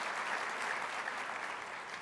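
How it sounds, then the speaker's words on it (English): An audience at a 2015 city address claps in steady, even applause, moderately loud and continuous, with no voices over it. "the school deserves a round of applause for making this type of an investment in the center part of the city."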